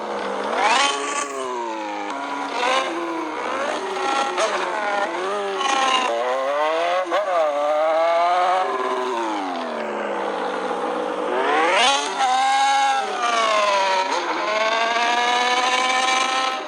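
Close Honda Hornet motorcycle engine revving repeatedly, pitch rising and falling in rapid sweeps, loud throughout.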